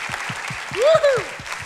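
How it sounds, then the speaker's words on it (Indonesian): A church congregation claps together in a steady, rhythmic beat, loud and close, while a voice rises over the applause partway through. "let's give the biggest round of applause our Savior Jesus Christ"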